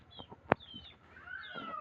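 A hen clucks in short, soft bursts, with a sharp click partway through and faint bird chirps around it.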